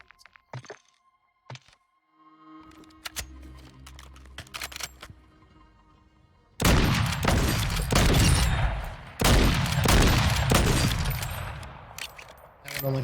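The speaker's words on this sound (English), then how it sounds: "with the Lockwood, you can fire really fast" A Lockwood sniper rifle fires in a video game, loosing a quick run of loud, sharp cracks close up after a few quieter clicks and knocks.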